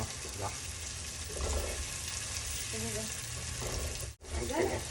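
Tomatoes for pav bhaji are sautéed in a pan, giving a steady frying sizzle with intermittent stirring scrapes, fairly faint and close, with a brief drop-out near the end.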